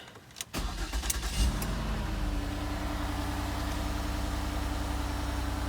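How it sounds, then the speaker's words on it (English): A 2010 Ford Escape engine cranks briefly with a few clicks, catches and settles into a steady, close idle hum that carries to the end. No one speaks. "Now let's try start it."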